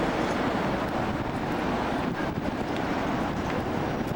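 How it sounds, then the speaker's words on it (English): Steady, broadband wind rushes over the microphone on a cruise ship deck in the Baltic, a constant buffeting roar with no voices. "A little bit breezy."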